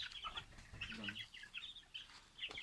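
Swedish chickens cluck and chatter softly in short bursts, a small flock heard fairly close in a quiet outdoor setting.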